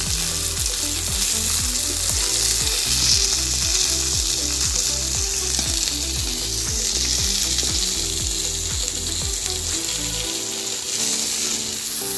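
Fish frying in mustard oil in a pan, a dense, continuous sizzle and crackle heard close and loud throughout, over a low rhythmic mechanical hum.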